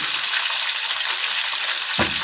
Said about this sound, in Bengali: এখন আমরা এই তেলের উপরে কেটে রাখা ফুলকপির টুকরোগুলো ভালোভাবে ভাজা করে নেব